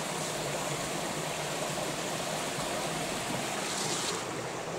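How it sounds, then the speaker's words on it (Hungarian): A small stream flows under a footbridge on a forest hiking trail, a steady, close rushing and gurgling of water that fills the whole stretch without pause, with no voices. "Jó kis patak."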